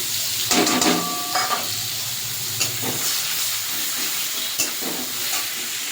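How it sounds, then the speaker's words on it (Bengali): Chopped onion dropped into hot oil with nigella seeds for a tilapia curry, a steady steamy hiss with a few clatters and thumps of utensils early on, close and even, with no talk. "এখানে একটা বড় সাইজের পেঁয়াজ আমি কুচিয়ে নিয়েছি, এটা দিয়ে দেবো"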